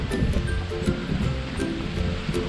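A waterfall in a Thai temple garden, near a footbridge, rushes in a steady, full wash of falling water, dense and continuous throughout with no talk over it.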